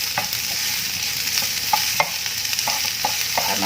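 Chili and galangal frying in a pan for a sweet, sour and spicy bitter melon dish, with a steady bright sizzle and scattered spatula scrapes and taps, close and continuous, no talking.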